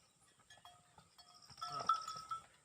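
Kurumbai sheep in a pen give faint, wavering bleats, several short calls overlapping at a distance over quiet rustling, with one louder bleat near the middle.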